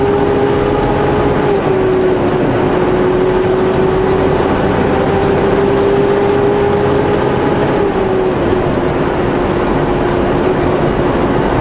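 A truck cruising along Highway 14 through the mountains, heard from inside the cab as a steady, loud engine drone and road rumble that barely changes, with no one talking.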